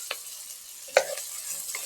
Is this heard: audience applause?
no